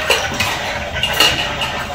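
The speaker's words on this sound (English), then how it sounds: "Alright, stir your food. Stir it so it doesn't burn, okay?" A small child stirs play food in a toy pot, producing quick, light clinks and scrapes in a busy cluster up close.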